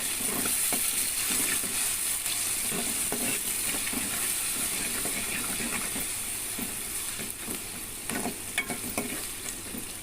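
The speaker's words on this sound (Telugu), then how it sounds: "ఉల్లిగడ్డలు మిర్చి మంచిగా వేగడానికి ఒక హాఫ్ టేబుల్ స్పూన్ ఉప్పు అయితే వేసుకుందాం వేసుకున్నాక ఇలాగైతే కలుపుకుందాం" Onions and green chillies fry with salt in a pan for a ridge gourd and egg curry, a continuous close sizzle with scattered scrapes and clicks of a spoon stirring through it.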